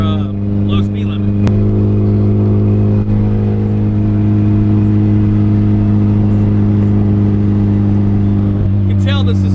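A loud boosted Acura Integra engine drones steadily while driving on a lightly patrolled road, a thick constant hum with strong tonal layers and occasional whines, with a voice talking over it.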